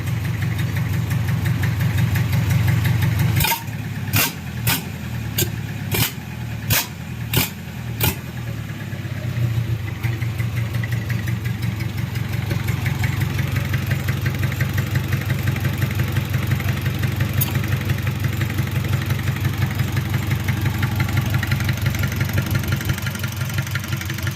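A Mitsubishi 4D30 diesel engine runs steadily and loudly close by, with a burst of sharp repeated knocks early on before settling into a continuous throaty rumble.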